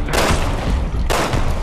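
Gunfire in the video game Resident Evil 6: two loud, close, rapid bursts of shooting with heavy low-end thump, separated by a brief lull.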